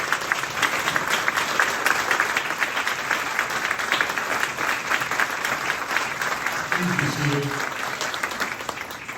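A crowd at a board of education meeting applauds retirees with sustained, even clapping throughout, and a brief voice surfaces faintly beneath the applause near the end.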